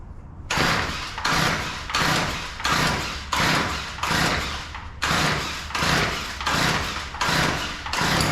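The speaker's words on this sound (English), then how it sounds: "we're gonna see if we can get this thing to start" A Weedeater 2-cycle edger is pull-started repeatedly, each of about eight rhythmic rasping cord pulls followed by a brief gap, close and loud, without the engine catching.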